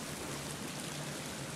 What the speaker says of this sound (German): Ui, aber Wasserfall?